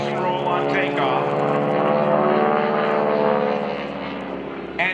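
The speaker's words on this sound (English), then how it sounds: "he gains speed to about 150 miles per hour as he approaches show center" A propeller airshow plane roars past at full power during a low, fast takeoff pass at a homecoming airshow, its loud droning engine dominant and slightly shifting in pitch as it goes by.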